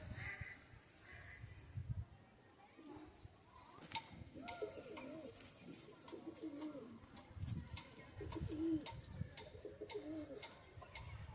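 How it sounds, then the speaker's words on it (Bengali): Domestic red-patterned pigeons coo in a repeated, rolling series of soft throaty calls, near and steady, with faint background rustle and other bird sounds around them. "দেখুন আমার বাড়ির লালচিরা পায়রাটা এই পায়রাগুলোকে বেশি ধরে রাখা যায় না"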